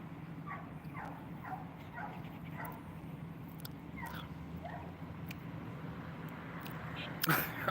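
A small dog gives faint, scattered yips and whimpers over a steady low background hum, ending in a louder burst of noise.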